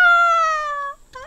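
A single long, tonal meow from a cat in the farming game Garden Paws, heard alone and close, followed by a shorter rising mew.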